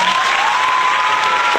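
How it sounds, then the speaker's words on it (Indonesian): Students in a classroom clap together, a loud, dense burst of applause with a faint whistle-like tone running through it, close and continuous without any talking. "Betul sekali, berarti tepuk tangan."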